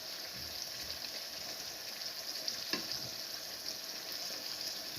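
Beef liver frying in a pan, prepared Moroccan style, gives a steady, even sizzle that carries through the whole stretch at moderate level, with one brief louder crackle partway through and no voices.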